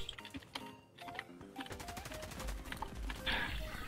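Rapid bursts of video game gunfire crackle in quick succession during an online shooter match, mixed with clicks and game effects.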